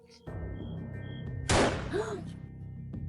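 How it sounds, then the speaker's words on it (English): One sharp, loud bang like a gunshot cracks out midway through a low background hum, ringing briefly before fading. "At 3:30, we heard a gunshot."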